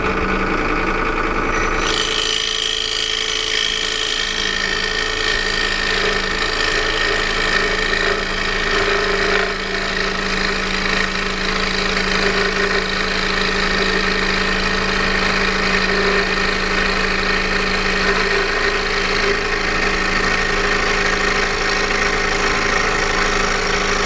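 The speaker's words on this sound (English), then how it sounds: "I'm using another number 3 Flying Dutchman ultra reverse blade, and this is just cheap 3/4 inch standard pine wood." A saw fitted with a No. 3 Flying Dutchman ultra reverse blade cuts cheap 3/4-inch pine, starting after a brief moment and then droning steadily and loudly with a constant motor hum and vibration throughout.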